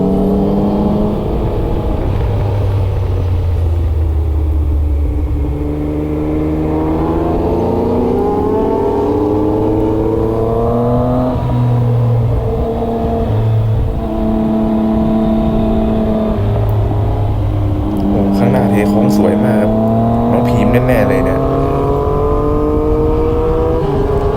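Four-cylinder Honda CBR650F motorcycles ridden in a group of three ahead of a Yamaha MT-09, their engines whining and rising and falling through the revs in repeated accelerations, loud and close, with no talking.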